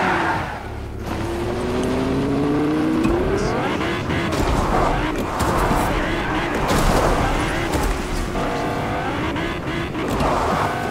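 Car engine revving in the Fortnite video game, rising and falling in pitch under steady game noise and frequent overlapping speech from players.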